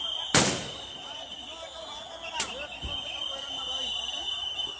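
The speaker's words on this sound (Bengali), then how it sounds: "একে একে সেনা সদস্যরা আমরা দেখতে পাচ্ছি তারা কিন্তু ফায়ার করে যাচ্ছে" Soldiers firing guns to scatter a crowd during a street protest, two sharp cracks a couple of seconds apart, the first loud and close, over a hissing outdoor background.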